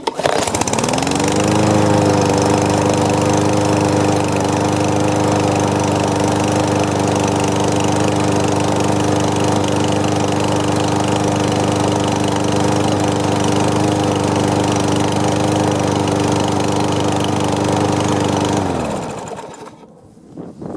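A freshly tuned-up lawn mower with new spark plug, oil and air filter runs loud and steady at close range, its engine drone holding for about eighteen seconds before winding down and stopping.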